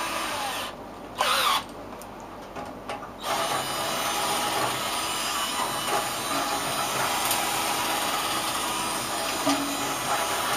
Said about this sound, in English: Just have to ream those holes a little.